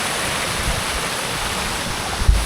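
Waterfall stream water rushing hard over rocks in Wayanad, a loud, steady close-up roar with a brief thump near the end.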